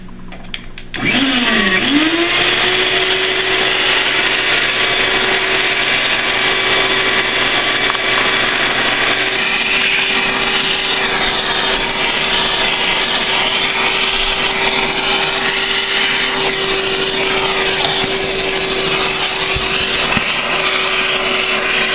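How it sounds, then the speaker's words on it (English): A shop vac sucking excess peat off a silicone-coated vivarium background, a loud steady whine and roar that starts after a brief motor spin-up and runs continuously, close, with the pitch shifting slightly as debris is pulled in. "it's time to use a shop vac to remove any excess peat that did not adhere to the silicone in the background"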